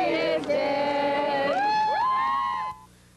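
Spectators outside the prison where Ted Bundy was executed cheer and whoop with sustained, rising shouts in a loud group chorus that cuts off abruptly near the end.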